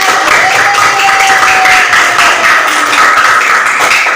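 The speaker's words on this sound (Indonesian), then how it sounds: "tepuk tangan buat anak hebat yang bisa menjawab" Fifth-grade classmates break into a short, loud round of clapping for a student who answered correctly, a dense and continuous patter of hands.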